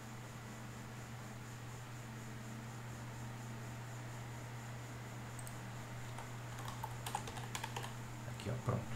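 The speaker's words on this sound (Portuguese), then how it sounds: "Então, a gente vai digitar esse mesmo texto." Typing on a computer keyboard sounds faint under a steady electrical hum, with scattered key clicks picking up toward the end.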